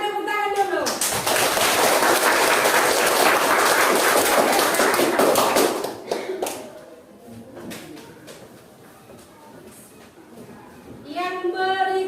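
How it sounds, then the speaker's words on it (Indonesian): A classroom of students claps together after a group presentation, a loud burst of dense clapping lasting several seconds before stopping sharply, followed by quieter room noise and a teacher speaking at the start and end. "Silakan tepuk tangan dulu."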